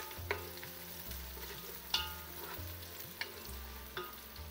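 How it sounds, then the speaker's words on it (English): Chopped ginger fries with browned onions in a pan for an Anglo-Indian lamb stew, giving a steady close sizzle broken by a few sharp stirring scrapes and spoon knocks. "we need to add the ginger, the chopped ginger. And fry that with the onion just for a minute or so"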